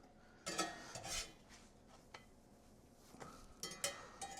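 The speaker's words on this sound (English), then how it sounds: "I believe it's time for the flip of this French toast." A spatula scrapes and clinks against a frying pan as French toast is flipped, giving a handful of sharp metallic taps and scrapes, fairly quiet, over a faint background sizzle.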